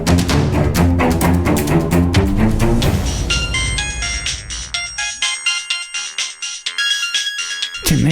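A melodic phone ringtone plays loudly for an incoming call, with repeated tonal pulses that shift into higher chiming notes and continue steadily.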